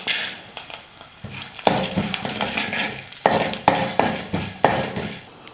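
Urad dal and chana dal with mustard seeds fry in a couple of spoons of hot oil in a pan, a steady sizzle broken by repeated scraping strokes of a spoon stirring the lentils, close and fairly loud with no talking.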